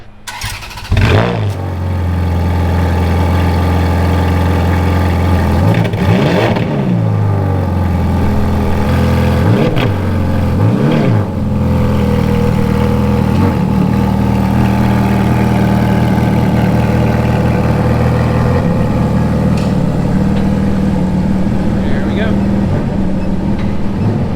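Ferrari 360 converted to a manual gearbox runs steadily with a loud, continuous engine drone, a start near the beginning and a few brief revs rising and falling, while people talk over it.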